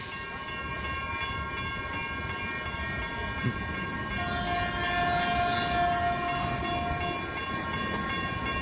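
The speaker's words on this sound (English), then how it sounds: "I'll shut up. It's a train." A passing train on a railfanning outing, likely a Caltrain baby bullet, sounds a long steady horn over continuous rolling rail noise and wagon rumble, loud and close, with no talk.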